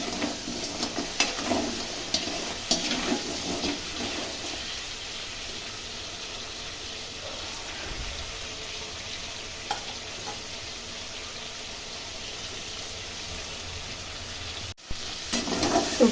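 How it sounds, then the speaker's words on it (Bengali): Crab frying in a pan gives a steady, close sizzle with occasional stirring clatters, running continuously for about sixteen seconds with no talk. "আমার কাঁকড়াটা ভাজা হয়ে গেছে।"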